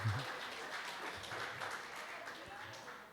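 A church congregation at a family worship service applauds softly and steadily, the clapping faint and diffuse throughout, with a low murmur of voices beneath.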